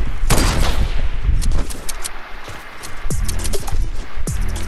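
Rapid gunfire from a Fortnite match, sniper rifle shots cracking loudly in a dense burst at the start, followed by several sharp, separate reports spaced through the rest, close and loud.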